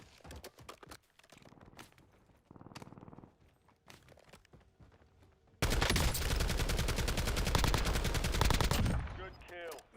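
Rapid automatic gunfire from a squad-based video game shooter, starting as scattered shots and bursts, then erupting into a long, loud, dense stretch of continuous fire before cutting off.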